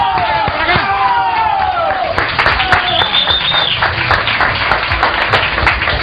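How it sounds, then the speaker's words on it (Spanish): An audience applauds the performer Winnie Kid, a dense crackling spread of clapping that runs through the clip under a voice speaking over it. "Vamos a, a dar un fuerte aplauso a Winnie Kid!"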